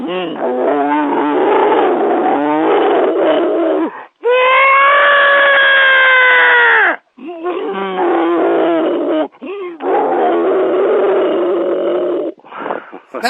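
A man imitates a bull elephant's mating call: a loud, sustained trumpeting bellow of about three seconds, set between stretches of excited talk and laughter in a radio studio.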